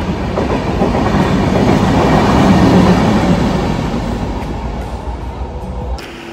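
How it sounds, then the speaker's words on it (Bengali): A train rolls into a station, wheels clattering in a steady rumble that swells and then eases as it slows, fairly close and loud with no voices. "দেন তারপর হচ্ছে ট্রেনটা এসেছে"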